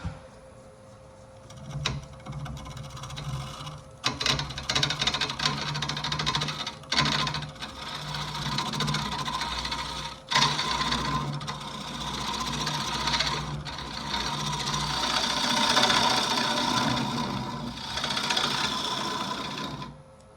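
A lathe turns a closed wooden form, with pith in the wood, the tool cutting dry shavings in a steady rasping whir over the motor's low hum, broken by brief pauses and scrapes, close and continuous.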